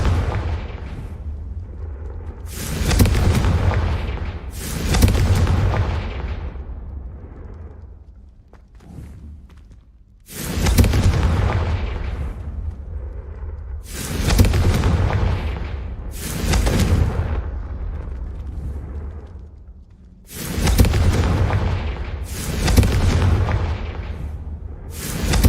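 Confringo fire spells burst in Hogwarts Legacy, several loud booming explosions in three clusters, each pair of blasts followed by a rumbling decay and a quieter lull.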